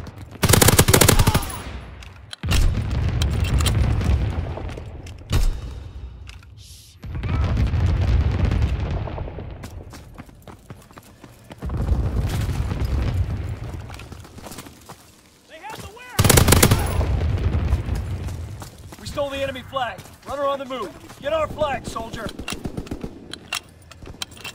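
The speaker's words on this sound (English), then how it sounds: "Anti-aircraft salvo commence." An anti-aircraft battery in Call of Duty WW2 fires in long, loud, rapid volleys, with several heavy bursts separated by brief pauses. A voice and radio chatter come in near the end.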